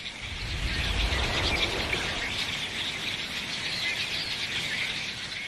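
Large flock of red-winged blackbirds in winter in North Carolina, a dense continuous chorus of chirps and squeals with no pauses, steady and moderately loud.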